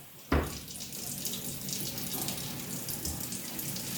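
Water gushes from a tap at a home sink for washing a child's hands, starting abruptly with a splash and then running as a steady, close hiss for several seconds.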